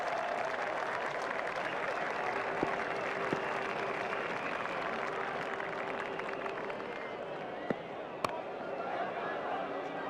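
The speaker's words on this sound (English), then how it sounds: "The crowd really enjoyed that one." Stadium crowd in the ICC Champions Trophy 2004 cricket video game on PS2, a broad continuous roar of cheering and applause with a few sharp pops, steady and full throughout.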